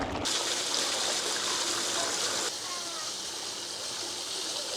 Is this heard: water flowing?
yes